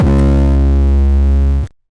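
Harsh, heavily distorted synth beat tone for a track, with notes pitched up one and two octaves, buzzing loud and steady alone before cutting off abruptly.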